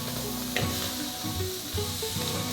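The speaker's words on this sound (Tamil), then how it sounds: "இப்போ வெங்காயம், பூண்டு, இஞ்சி வதக்கலாம்." Onion, garlic and ginger sauté in oil for mutton kulambu, with a close, continuous sizzle and a few light stirring scrapes.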